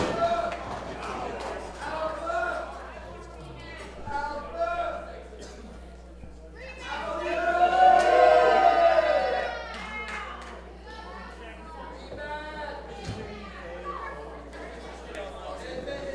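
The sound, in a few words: wrestling arena crowd cheering and chanting in support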